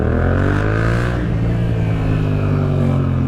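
A motorcycle engine drones loud and close as the rider accelerates to overtake, a steady mechanical hum with rising harmonic tones and wind rush, continuous and alone throughout.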